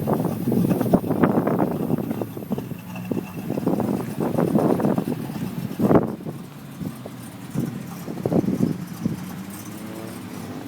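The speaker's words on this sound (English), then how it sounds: "you hear the exhaust down here?" A 1987 Buick Regal Grand National with a 3.8 turbo V6 idles with a low, throbbing exhaust rumble up close, uneven pulses rising and falling, with a brief sharp knock midway.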